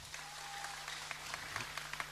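Applause from a concert audience at a Khmer television concert show, a steady wash of clapping under a faint low hum, with scattered sharper claps standing out.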